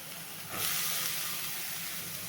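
Radish pieces added to sautéed onions hit a hot pan, a sudden loud hissing sizzle that swells after a quieter start and holds steady.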